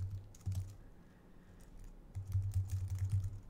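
Computer keyboard keys clatter in two short bursts of fast typing, close and fairly quiet, with a pause between them while entering pinyin words in a Chinese learning app.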